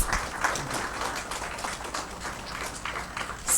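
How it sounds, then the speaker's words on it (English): Audience applause welcomes a guest speaker onto the stage at a talk on life-saving skills, a steady dense clapping throughout, moderately loud, with no speech over it. "let's welcome brother Jacob onto the stage with a round of applause"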